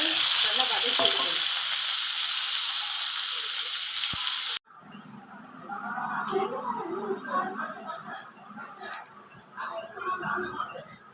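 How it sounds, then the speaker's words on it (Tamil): Tomatoes sautéing in hot oil for a green field bean gravy: loud, steady sizzling and frying that fills the first four seconds, then cuts to quieter stirring and scraping in the pan with a voice talking over it. "இதில் வந்து நம்ம தக்காளி எல்லாத்தையுமே போட்டு நல்லா வதக்கி வைக்கணும்."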